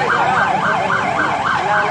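Ambulance siren wailing in a steady rising-and-falling cycle, loud and close, with traffic noise underneath, during a police stop after a motorcycle theft in Colombia.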